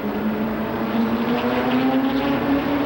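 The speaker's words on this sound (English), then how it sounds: "They pick up the throttle coming into turn number 4" Stock cars roar on the Shadybowl Speedway oval in 1992, a steady droning engine note rising slightly in pitch as they throttle up into turn four, heard from a distance without talk.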